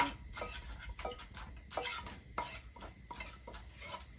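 Papaya salad pounded in a mortar with a pestle, the tool clacking and thudding in a steady, irregular rhythm of about eight close, moderately loud strikes with faint kitchen clatter between them.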